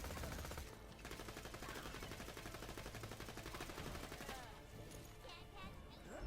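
Rapid automatic gunfire in the video game Borderlands 2, a dense rattling stream of shots from a weapon with a rocket launcher in play, fairly faint and continuous with a short lull.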